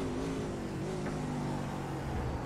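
A GT race car runs flat out down the Kemmel straight at Spa-Francorchamps, its engine holding a steady high drone with little change in pitch, loud and continuous, with no talking.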